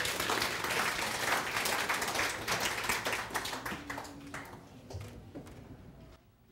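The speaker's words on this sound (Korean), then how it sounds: "자, 큰 박수로 맞이해 주시기 바랍니다." An audience claps loudly in a sustained burst of applause to welcome young children of a kindergarten-age group onto a stage at a children's presentation event, and the clapping thins out and fades toward the end.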